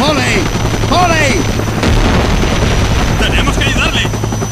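A military helicopter in a war video game, rotor thudding loud and constant with distant gunfire and shouting soldiers over it.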